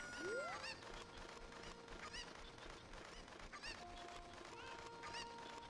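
A video game chicken in The Legend of Zelda: Ocarina of Time squawks and clucks in short bursts, picked up and thrown, over the game's background music and effects, with no voices.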